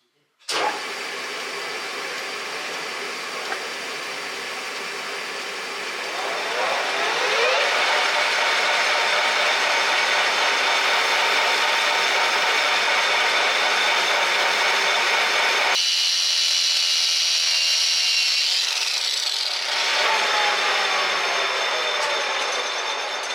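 A Yanmar SD40/50 saildrive drive shaft spinning in a lathe for cleaning, a continuous whirring mechanical drone with ratcheting texture that swells after a few seconds, shifts in tone partway through, and runs steadily without speech.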